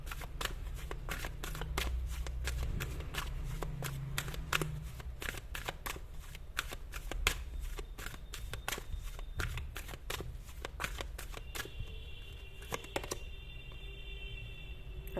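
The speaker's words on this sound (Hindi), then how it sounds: "गाइस ये सारे कार्ड्स मैं एक साथ निकाल लेती हूँ, ऐसे आपको दिखा देती हूँ" Tarot cards are handled and dealt out, producing many crisp, rapid card flicks and slaps close by, sometimes bunched into quick runs, with no talking.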